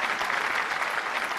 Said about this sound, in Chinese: 来，我们掌声送给我们男嘉宾啊！